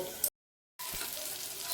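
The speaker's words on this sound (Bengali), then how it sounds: "চলো এবার মেথি শাকটা বসাই" Fenugreek greens frying in a pan give a brief, even, soft sizzle, broken by a short gap of total silence near the start, with no talking.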